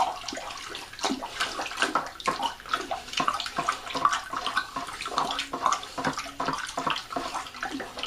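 Water sloshes and swirls continuously with irregular splashing pulses as powder is stirred briskly into water in a container for winemaking.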